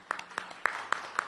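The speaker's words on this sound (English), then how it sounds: "let's also give a round of applause to the media" Five sharp, faint hand claps at a steady, brisk pace, sounding like sparse applause from a small group in a quiet room at a Malaysian economic minister's press briefing on ASEAN talks.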